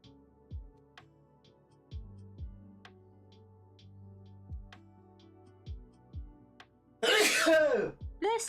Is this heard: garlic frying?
no